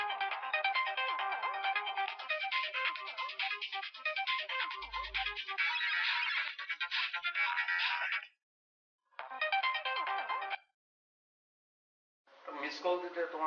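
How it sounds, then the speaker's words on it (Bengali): A mobile phone ringtone plays a repeating melodic tune, fairly soft and clear, running for several seconds, stopping, sounding again briefly and stopping, then starting once more. "ইম্পর্টেন্ট ফোন আসলো"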